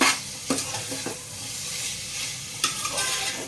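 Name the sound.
sautéing spiced pea rice mixture in a pan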